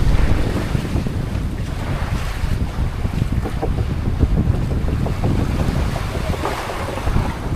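A faltering boat motor chugs unevenly out on the open Pacific Ocean during monsoon weather, with wind buffeting the microphone and waves washing steadily around it.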